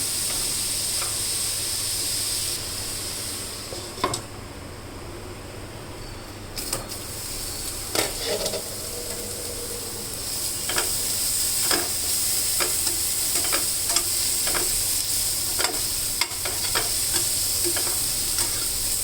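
Breakfast ingredients for an egg-and-oats dish fry in a pan with a steady, loud sizzle. Scattered clicks and scrapes of stirring cut through the sizzle, and no one speaks.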